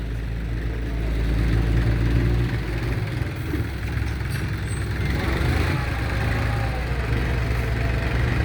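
A tractor pushes soil around a cramped dumping area, its engine holding a steady, close, low rumbling drone throughout with no voices.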